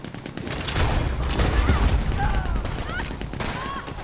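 Gunfire in Red Dead Redemption Online rattles in a dense, continuous volley of shots throughout, fairly loud, with people talking over it.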